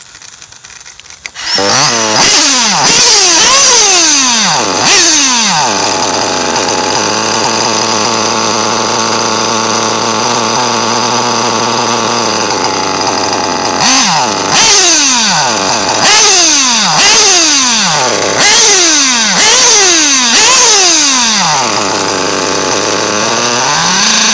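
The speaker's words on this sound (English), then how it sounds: "Now the idle's too low." A moped engine idles and revs during carburetor tuning, loud and close: a steady buzzing idle broken by repeated rising-and-falling throttle blips, first early on and again in a rapid cluster in the second half.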